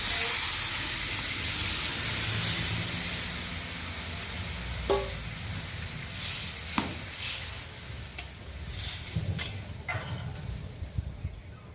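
Water poured into a hot pan while cooking an Ol Kochu (elephant foot yam) dish sends up a loud, steady sizzling hiss that slowly eases, broken later by a few sharp utensil clatters.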